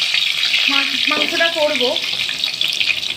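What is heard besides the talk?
new potatoes frying in pan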